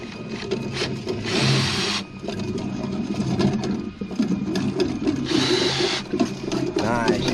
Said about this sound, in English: You can hear that cable coming right through there right now.